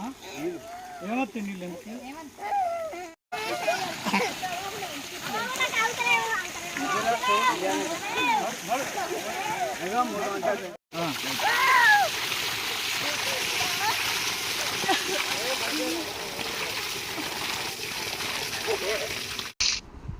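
Rushing, splashing water from a borewell runs continuously beneath many excited children's voices shouting and chattering nearby.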